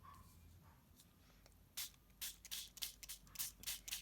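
A handheld spritzer sprays water over a stamped card in about eight short, hissing bursts, close and fairly loud after a quiet start, with no talking.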